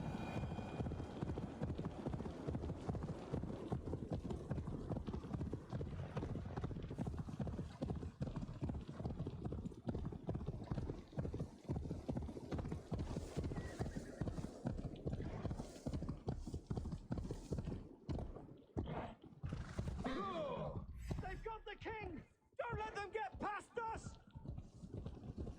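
A horse galloping in the video game Assassin's Creed Valhalla, rapid hoofbeats pounding in a steady, dense rhythm for most of the stretch before breaking into scattered, uneven thuds and other game sounds near the end.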